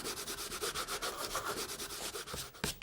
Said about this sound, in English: We then rub off the masking fluid.